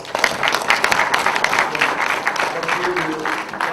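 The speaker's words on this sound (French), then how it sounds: "On acclame?" A general assembly of an association applauds to adopt its statutes by acclamation, a dense burst of clapping from the room with some voices underneath.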